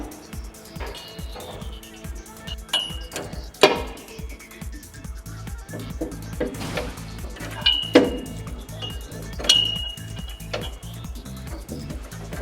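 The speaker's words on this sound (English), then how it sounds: "Use two 24mm wrenches to loosen the nuts." Two 24mm wrenches loosen nuts on a Twin Busch TW 250/260 two-post car lift, giving rhythmic metallic ticking broken by sharper clinks and clanks of steel tools against the lift.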